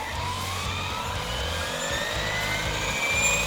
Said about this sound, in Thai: แล้วกดคำว่ารันนะครับ รอให้ใบพัดหมุนสุดเสียงนะครับ